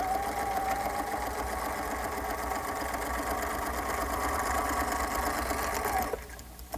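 Sewing machine stitching around a shoulder pad, a fast continuous whirring drone held close and loud for about six seconds before stopping abruptly.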